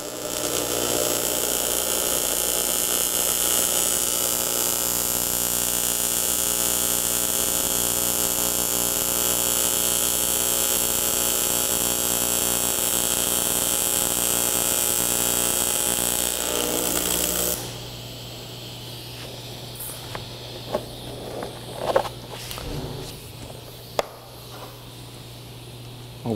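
Alternating-current welding on aluminium gives a continuous, loud, close buzzing hiss with a steady hum for about seventeen seconds, then cuts off, leaving faint clanks and handling noises.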